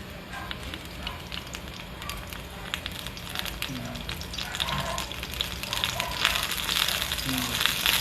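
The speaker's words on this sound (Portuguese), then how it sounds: "eu vou pegar dois dentes de alho aqui e eu vou colocar eles para saltear junto ali" Two garlic cloves sautéing in a pan give off a soft, steady sizzle with scattered crackles and occasional clinks, while faint talk goes on nearby.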